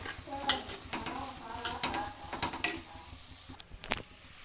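Vegetable pulao with cut lemon being stirred in a pot: soft scraping and shuffling strokes with a few sharp utensil clinks against the pot, fairly quiet and close, no talking.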